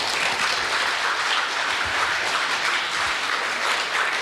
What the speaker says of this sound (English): So, big applause for them.